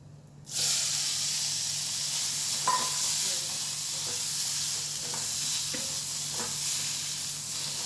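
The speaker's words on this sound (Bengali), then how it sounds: "বিউলির ডালটা আমার লাল লাল মতন ভাজা হয়ে গেছে।" Urad dal frying with curry leaves in a hot pan bursts into a loud, steady sizzle after a brief quiet start, with a few faint stirring clicks over the hiss.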